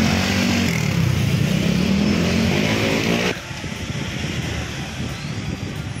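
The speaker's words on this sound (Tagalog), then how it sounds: "Ang ingay ng motor." Continuous loud engine roar from a moving motorcycle, steady throughout with a shift in tone partway through, no speech.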